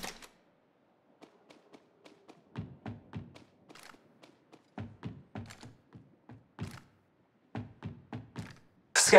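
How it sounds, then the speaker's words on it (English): A series of sharp mechanical clicks, taps and thuds from a weapon being reloaded in the video game Apex Legends, irregularly spaced and fairly quiet, with a louder clack at the end. "Reloading."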